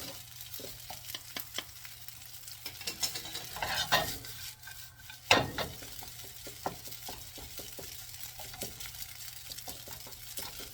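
Cold rice with egg stir-fried in a pan, quiet sizzling under rhythmic spatula scrapes and taps, with a couple of louder bursts of hissing and clatter partway through, and no voices.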